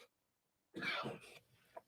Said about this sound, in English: Sorry, I got a cough in my throat.